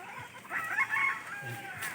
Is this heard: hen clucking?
yes